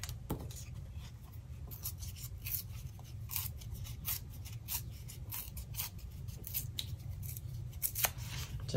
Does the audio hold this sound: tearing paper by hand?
yes